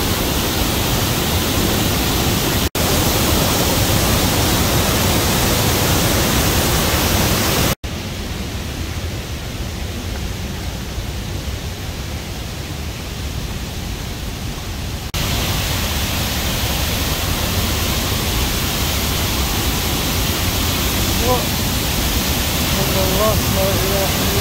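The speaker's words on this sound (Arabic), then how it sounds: "هذه هي شلالات مورتيفيلي في كوتايسي بجورجيا." The Martvili waterfalls near Kutaisi, Georgia, produce a loud constant roar of falling water with an even noisy hiss that shifts in level at a couple of abrupt cuts.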